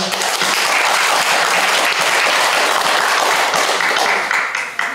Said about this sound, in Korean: 박수로 끝냅니다.